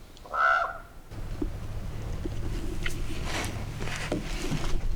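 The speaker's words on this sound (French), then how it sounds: "Il est complètement dingue le chant de ce corbeau." A crow gives a single loud, harsh call near the start, then the scene settles into a low outdoor background rumble with faint scattered sounds.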